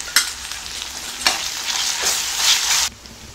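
Ginger-garlic paste and mushrooms with salt sizzle in a pan while being stirred for a Tamil mushroom gravy. Continuous close frying hiss is broken by several sharp spatula scrapes, with no voices.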